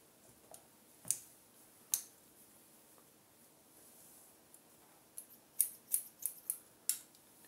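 Hair-cutting scissors snip through a teenage girl's semi-long hair during a round graduation cut, giving a few isolated crisp snips and then a quick cluster of sharp closes, close up and faint, with no talking.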